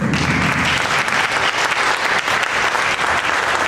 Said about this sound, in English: let me welcome the third speaker with a thunderous round of applause